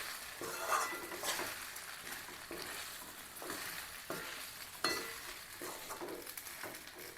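Sabudana khichdi being mixed with crushed peanuts in a pan, a spoon scraping and stirring in repeated strokes with soft sizzling beneath, close and fairly quiet, no voices.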